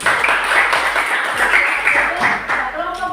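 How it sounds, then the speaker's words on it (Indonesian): A classroom group claps for the first group's presentation, a dense, fairly loud burst of applause lasting a few seconds with some voices mixed in. "Nah, tepuk tangan kelompok 1."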